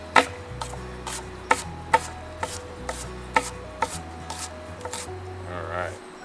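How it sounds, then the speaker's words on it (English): A knife chops a red onion on a cutting board with a string of sharp, evenly spaced taps close by, about a dozen cuts in steady rhythm over a low background hum. "for our red onion, same thing as the jalapeno peppers, we want to make sure that we are using, again, nice uniform sizing on those cuts"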